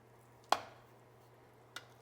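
A knife cuts into a vegan mushroom and potato casserole in its baking dish, giving one sharp tap against the dish followed by a second fainter one, close and isolated against a quiet hum.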